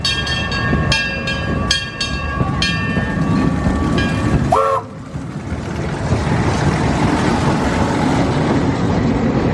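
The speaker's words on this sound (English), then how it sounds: "Let's get a video of the train coming." A theme park train at PortAventura World rolls in on a hot July day, with a steady mechanical rumble, several short bell-like pings and clacks early on, and a brief squeal before the noise broadens into a continuous wash.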